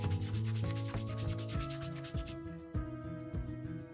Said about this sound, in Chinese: 每一个面我们都需要充分打磨